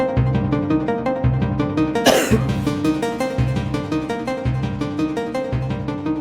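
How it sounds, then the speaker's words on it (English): One sharp, close cough bursts out over steady, rhythmic background music. "while I get this cough out of my throat"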